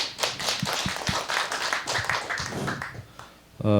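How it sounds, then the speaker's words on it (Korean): Audience members at a Korean literary awards ceremony and year-end celebration clap in distinct, fairly crisp individual claps. The claps thin out toward the end, and then a voice begins speaking. "우리 귀한 박수로 청해 듣도록 하겠습니다"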